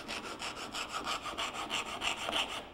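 A coarse hand file rasps back and forth along a panel edge to cut a 45-degree chamfer, a quick, even series of scraping strokes, close and clear, with no talking.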